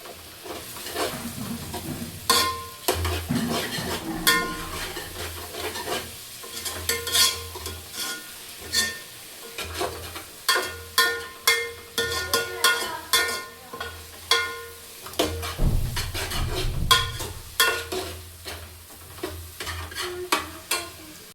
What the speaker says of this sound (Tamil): கொஞ்சம் நல்லா வதங்குற அளவுக்கு வதக்கலாம்.